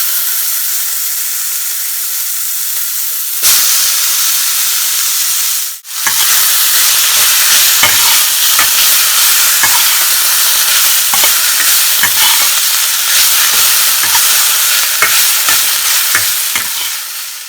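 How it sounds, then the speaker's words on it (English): Sliced onion, ginger and garlic saute with cumin seeds and asafoetida in a pan, making a loud continuous sizzle that swells after a brief dip, with stirring clicks throughout and no voices. "Saute them until it's golden."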